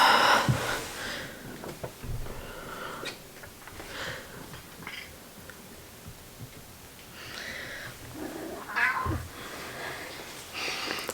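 A cat meows several times indoors, its cries rising and falling at moderate loudness with short quiet gaps between them.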